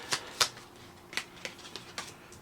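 Several quick papery snaps and riffles of a tarot card deck being shuffled, spaced irregularly, fairly quiet and close with no talking.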